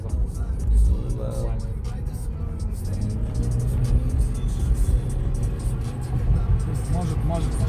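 A Toyota Prius 30 drives along with a low, steady road rumble and faint motor whir heard from inside the cabin, under continuous conversation.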